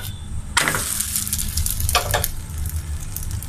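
Milk and sugar paratha frying on a pan, a steady sizzle with bursts of louder crackling as the flatbread is turned and pressed.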